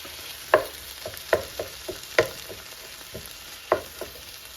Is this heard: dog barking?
no